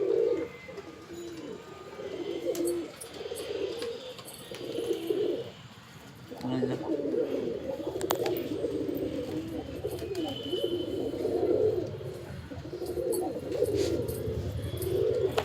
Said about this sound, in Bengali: এই যে গোটা ছাদ মানে খালি পায়রা আর পায়রা।